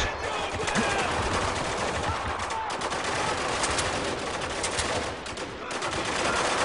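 Sustained AK rifle fire rattles in the video game Spec Ops: The Line, with rapid, dense bursts over a busy, noisy battlefield bed and no speech.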